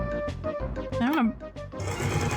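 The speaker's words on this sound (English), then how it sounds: "backstitch that and pull it out and see how much gappage we got going on" A sewing machine stitches and backstitches a seam on a cosplay costume, a steady mechanical whir running under a person talking throughout.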